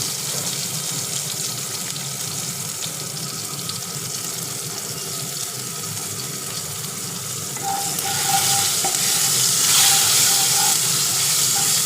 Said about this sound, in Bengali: টমেটোটা একটু ভাজা হবে